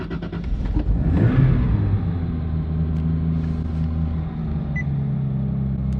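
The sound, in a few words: 2JZ-swapped Nissan 370Z engine starting and running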